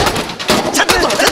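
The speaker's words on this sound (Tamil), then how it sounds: "வான வெடி இல்லை, போம் வெடி" Sharp cracking bangs from exploding firecracker bombs burst out in rapid succession at a Deepavali celebration in Malaysia, loud and nearby, amid a noisy crowded background.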